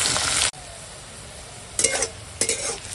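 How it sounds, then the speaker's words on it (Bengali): Bay leaf and chopped onion fry in oil in a loud sizzle that drops off sharply after half a second. A soft hiss continues, broken by two short bursts of stirring and spluttering. "এখন দিয়ে দেব তেজপাতা আর দেব পেঁয়াজ কুচো দিয়ে ভেজে নেব"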